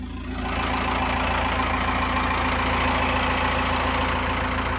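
A Cummins 4BT diesel running just after a cold start at 28 degrees, with a new injector pump, sits close and loud, settling into a steady rough idle with a knocking clatter and a constant droning hum.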